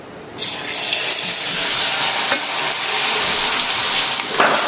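Garlic-battered chickpeas dropped into hot oil for chole koliwada, setting off a loud, sudden, continuous sizzle that rushes in after a brief quiet start and stays strong and bubbling throughout.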